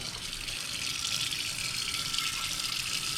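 Water pouring steadily into a pot, an inch or so for steaming clams, a continuous close splashing gush with no other sounds.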